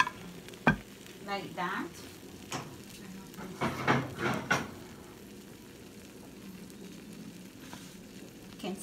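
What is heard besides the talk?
fried coconut shrimp sizzling on a plate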